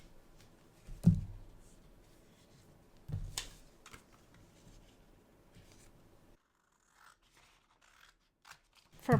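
Scissors snip through scrapbooking paper in a few sharp, close cuts spaced a couple of seconds apart, followed by quieter rustling and a final snip.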